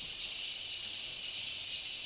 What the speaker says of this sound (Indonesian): Ini we call jangkrik.